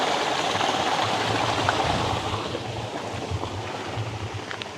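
Water rushes steadily at a seven-stage waterfall in the American Southwest: a loud, continuous broadband roar with no voices, easing slightly in level partway through.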